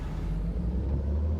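Cars driving past in Farming Simulator 22, a brief low engine rumble, faint and continuous, with no voices.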